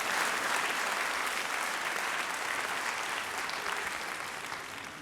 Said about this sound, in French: Merci d'applaudir à nouveau encore.